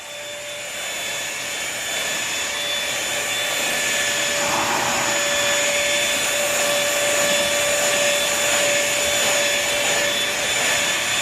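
A Bissell 3-in-1 lightweight stick vacuum running over carpet, a loud, steady motor whine with a constant airflow roar that holds for the whole stretch with no talking.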